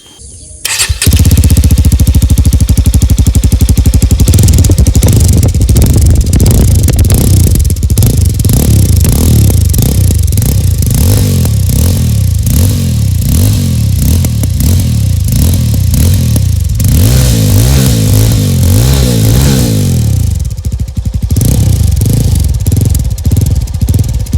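A Jawa 42 FJ motorcycle engine fires up after a short crank, then idles with a loud, close, thumping exhaust beat and is blipped through several revs before settling back.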